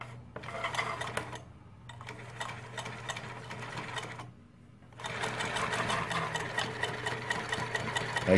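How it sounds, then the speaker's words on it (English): New Tech GC-20U83 zig zag lockstitch industrial sewing machine stitching hard spandex fabric, with fast rhythmic mechanical clatter in three bursts separated by brief pauses over a steady motor hum. "I'm doing on a very hard and type of spandex fabric."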